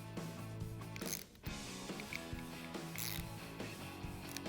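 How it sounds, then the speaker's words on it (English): A ratchet tightens bolts on a Ford Performance adjustable handling pack for a 2005-2014 Mustang GT coupe, giving steady, close mechanical clicking throughout, with brief pauses between strokes. "back to the ratchet and tighten them down"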